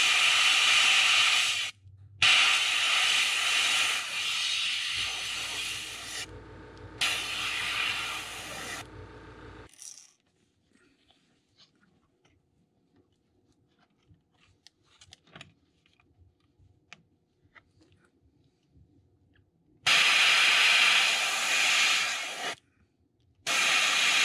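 An airbrush sprays black paint over a stencil on a crankbait fishing lure in several loud, steady hissing bursts separated by pauses, with a long quiet stretch of faint clicks and handling noises in between.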